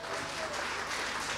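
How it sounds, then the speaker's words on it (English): Church congregation clapping during a sermon, a short, faint patter of hands under a low hum, with people's voices mixed in. "give Jesus a clap and a praise right now."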